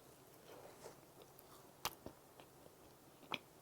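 Crunchy yakgwa, a Korean honey cookie, being bitten and chewed up close: quiet munching with two sharp crisp crunches standing out, one near the middle and one toward the end, and no talking.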